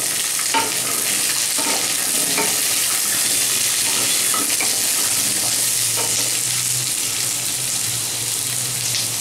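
Drumstick pieces fry steadily in a pan for Bengali moong dal, a dense continuous sizzle with repeated stirring scrapes and clicks close up, no talking.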